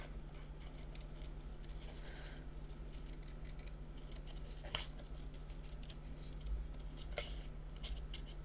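Scissors snip through card in a quiet room, a few soft, sparse cuts over a low steady hum, faint and close with no talking.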